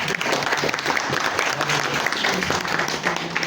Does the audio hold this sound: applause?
yes